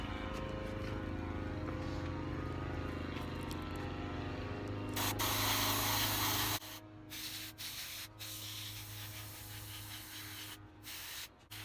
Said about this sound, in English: I've got some black paint mixed up in my airbrush, and just gonna go through and paint this bear.